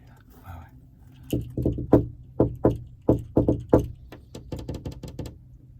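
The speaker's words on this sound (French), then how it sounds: "La clé dans la porte, ça?" A key turns in a door lock with a close series of sharp metallic clicks and rattles in irregular bursts, followed by lighter rapid clicking near the end.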